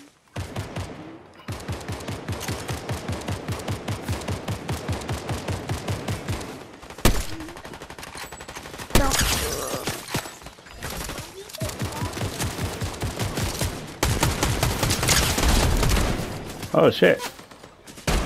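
Rapid bursts of video-game gunfire, steady machine-gun volleys running for several seconds, then louder scattered shots and blasts, with a player talking over parts of the shooting.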